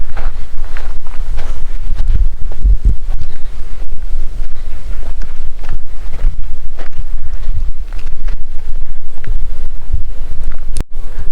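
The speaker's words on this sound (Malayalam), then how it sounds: "നല്ല കാറ്റുണ്ട് ഇതിൻ്റെ മേളിലേക്ക് വരുമ്പോഴത്തേക്ക്" Strong, continuous wind on a hilltop viewpoint overlooking a dam buffets the microphone with loud low roaring gusts throughout; a sharp click near the end.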